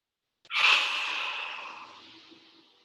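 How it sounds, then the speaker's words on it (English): A single deep breath during a thoracic spine stretching exercise: a sudden close airy rush that fades slowly over about two seconds, quiet and alone with no talk. "Another deep inhale through the ribs."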